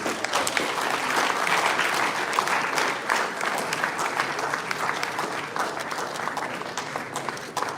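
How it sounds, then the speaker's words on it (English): Sustained, even applause from an audience at an IIM Lucknow event, a dense wash of many hands clapping steadily throughout without pause. "A big round of applause for Neerti"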